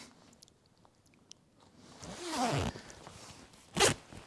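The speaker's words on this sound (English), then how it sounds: "And I'll zip it in." A tactical hoodie jacket zipper is pulled in a quick rasping stroke, then a short sharp zip follows, close up in a quiet room.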